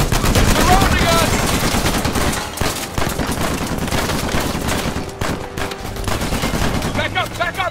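Dense gunfire from an Uncharted 4 firefight, continuous overlapping automatic bursts and shots, loud and close, with shouting voices mixed into the battle.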